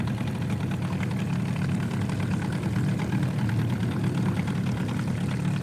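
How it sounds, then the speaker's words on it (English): Boat outboard motor idling while drifting slowly along a river at about 4 km/h, a steady low chugging drone that stays constant and close throughout with no talking. "just with the motor at idle"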